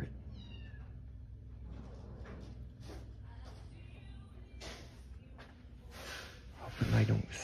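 A small cat meows faintly a few times in a quiet room, with soft rustling and a brief thump near the end.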